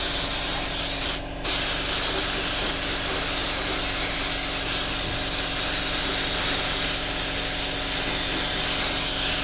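An airbrush sprays flat clear coat over the decals on a Revell 1/48 F-15E Strike Eagle model, a close, loud, steady hiss broken by one brief pause near the start.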